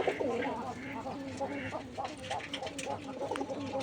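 A pigeon among birds kept by a keeper, with one youngster's eye swollen, cooing in low repeated phrases close by while a person talks over it.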